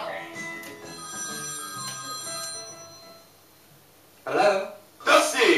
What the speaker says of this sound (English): And then one day the phone rang.